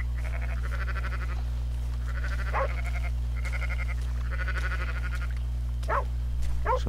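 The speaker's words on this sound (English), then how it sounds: "Some nice sheepy out there." Sheep bleat repeatedly in a Red Dead Redemption outdoor scene, several wavering calls in short bursts over a steady low game hum, with no talking.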